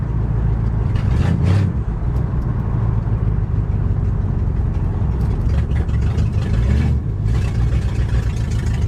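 A Ford Galaxie left parked for five years runs with no exhaust fitted, giving a loud, raw, steady engine drone with a deep low-end roar. Brief swells of revving come through from close by.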